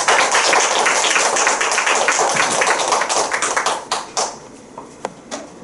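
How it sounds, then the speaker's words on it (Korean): Audience applause welcoming the social sciences dean at a Cheongju sustainable development lecture, dense steady clapping from a room of people that thins out into a few scattered late claps before fading. "박수로 환영해 주십시오"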